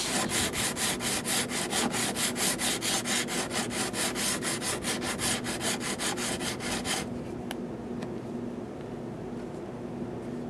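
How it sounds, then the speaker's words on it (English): A Honda bumper being sanded by hand, rapid rhythmic back-and-forth scraping strokes, close and steady for about seven seconds, then stopping into a quieter background hum. "I'm going to save you some of this boring sanding"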